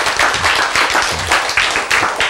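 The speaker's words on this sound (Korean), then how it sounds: "박수." An audience at a Korean-language lecture on healing diabetes claps in loud, close bursts with a quick, fairly regular rhythm for a couple of seconds, with no one talking over it.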